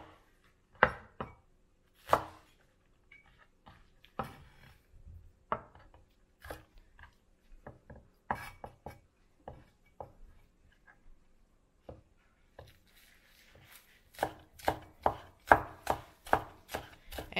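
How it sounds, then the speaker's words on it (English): A knife chops scallion into thin, long slices on a cutting board, sharp knocks landing in irregular bursts, sparse at first and then quickening into a rapid run near the end, close and clear with no talking. "And chop into thin, long slices."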